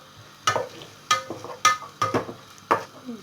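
Onion frying in a pan, stirred in bursts: six sharp scraping strokes at a steady pace with a soft sizzle beneath, close and fairly loud, no voices.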